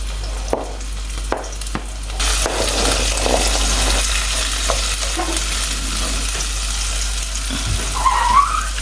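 Spring onions sizzling in hot oil, a loud continuous crackle and hiss close to the pan, with a few sharp knocks early on and occasional stirring scrapes.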